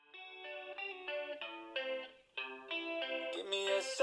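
A Lenovo IdeaPad Pro 5i (2024) laptop plays a song with a sung vocal and synth backing through its built-in speakers, sounding steady and moderately loud with a brief dip midway and a brighter, fuller close.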